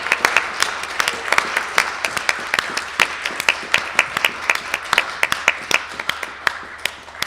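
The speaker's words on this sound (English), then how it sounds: "Let's have a big round of applause for all of our donors." An audience claps in a sustained round of applause for donors at a radio theater show, with dense, crisp, fairly close hand claps at a steady moderate level throughout.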